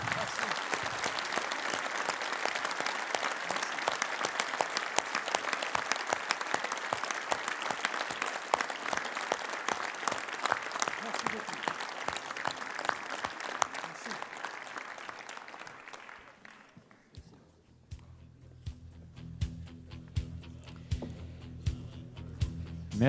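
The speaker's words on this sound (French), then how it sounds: "Merci de l'applaudir." Audience applause for former French Prime Minister Jean-Pierre Raffarin at the FNEDT 2026 congress, a sustained dense clapping from a large crowd that fades out after about sixteen seconds, followed by a quieter room with low background noise.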